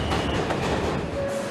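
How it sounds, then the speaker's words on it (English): A New York subway train running at night, with a loud steady rumble and clatter of carriages on the rails, continuous and close, without any voices. "Midnight on the New York subway."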